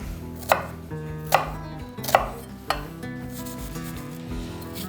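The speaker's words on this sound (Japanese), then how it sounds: "半分にカットし、 今日は食材が多いので4分の1。" An onion cut into quarters with a kitchen knife on a board, four distinct chopping knocks spaced under a second apart, close and clear over soft background music.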